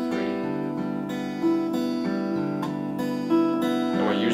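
Steady fingerpicked acoustic guitar arpeggios in a lilting three-beat pattern played by thumb and three fingers, with a clear repeated cycle of plucked notes, close and alone.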